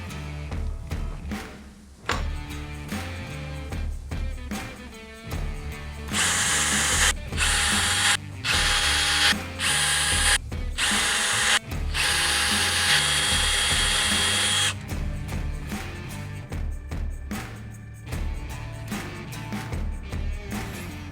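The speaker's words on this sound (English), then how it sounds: "You're gonna drill that out to 5/8 if you're using locking bolts, and 11/16 if you're using the twist knob" Holes drilled through motorcycle touring cases for an Elite Touring Innovations bracket kit, opened out to 5/8 or 11/16 inch; a power drill whirs and grinds close by in repeated bursts with ratcheting clicks, no voices.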